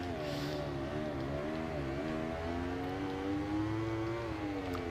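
A motorcycle engine in the racing game Ride 2 drones steadily, its pitch wavering and slowly climbing as it holds a constant buzzing tone, quiet and continuous with no talking.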